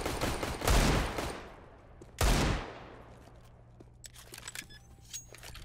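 Gunfire in the video game CS:GO comes as two loud bursts of rapid automatic shots a little over a second apart, followed by quieter scattered clicks and a faint hum.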